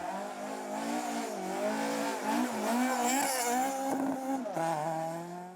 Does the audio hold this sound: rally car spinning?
yes